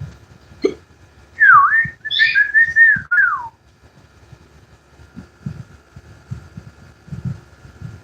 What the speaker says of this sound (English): Birds whistle big time.